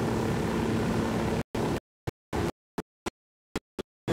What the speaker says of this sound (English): I got a helicopter